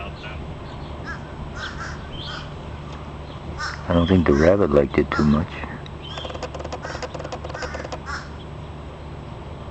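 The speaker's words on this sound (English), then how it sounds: "You can hear the crows." Crows caw in a loud burst of harsh calls over a few seconds, with fainter caws after, in Ocala National Forest where a hawk feeds on a rabbit; someone talks quietly nearby.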